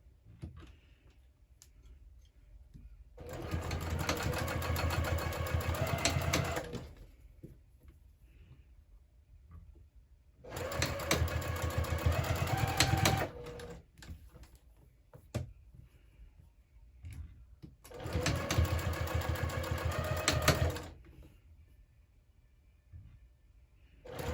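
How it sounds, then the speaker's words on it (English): A sewing machine topstitches along the folded edges of a crossbody bag in three separate bursts of several seconds each, a steady close whirr separated by near silence with faint clicks. "So now we're just going to go ahead and top stitch on either side of the folded edges here at 1/8 of an inch seam allowance."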